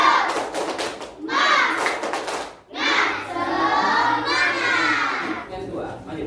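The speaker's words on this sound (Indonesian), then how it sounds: "sebelumnya kita tepuk semangat" A group of children and adults does the tepuk semangat spirit clap, with rhythmic clapping bursts and loud shouted chanting from a crowd nearby, mixed with voices.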